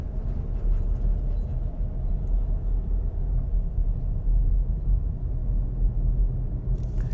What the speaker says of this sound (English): what I'll do is accelerate very gradually and you see where it is shifting the gears